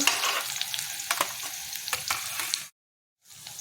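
Chopped onions frying in a hot pan for a savory flattened-rice dish, a loud close sizzle broken by scraping stirs, stopping briefly before the sizzle returns.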